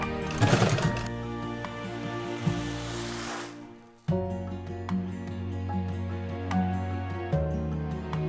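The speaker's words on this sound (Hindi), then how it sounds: "इस तरह हमने अपने पूरे बैग में दाब सिलाई कर लिया है।" Sewing machine top-stitching a bucket bag made from an old bedsheet, a steady humming motor run with a brief pause partway through before stitching resumes, close and fairly loud, no talking.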